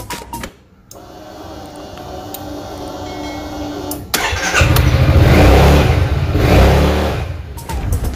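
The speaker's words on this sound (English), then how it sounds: "Okey, kita switch on kan motor kita." A Yamaha XMAX scooter engine starts and runs at a steady idle close by, with a louder rise in engine sound midway that settles back down, no talking.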